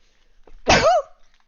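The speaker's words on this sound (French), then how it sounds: "Et pardon, j'ai éternué. C'était pas prévu." A single sudden sneeze from a woman indoors, close and loud, a sharp burst that lasts about a third of a second with a short breath before it, then quiet.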